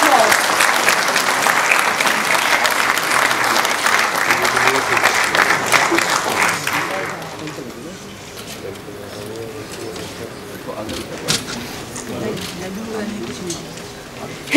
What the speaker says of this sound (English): Can you please welcome him on stage with a warm applause.